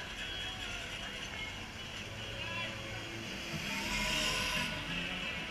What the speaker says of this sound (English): Lego Car is making more noises than I've ever imagined them